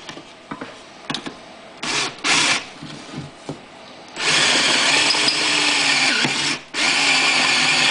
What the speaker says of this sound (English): drill it ultimately to a 1/2 inch